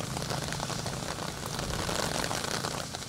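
Heavy rain pours down steadily during an outdoor marathon race in Benin, a dense, continuous hiss of water on surfaces with no breaks and no voices.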